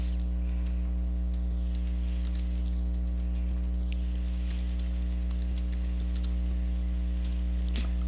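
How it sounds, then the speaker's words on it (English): Light, rapid typing on a computer keyboard, soft scattered key clicks running throughout over a loud, constant electrical hum. "Okay, so I have that all typed in."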